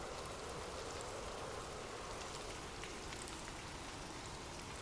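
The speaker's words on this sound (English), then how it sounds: "drift off to sleep with rain." Steady rain falling in a dense, even hiss with scattered droplet patter, constant and unbroken throughout at a soft, moderate level.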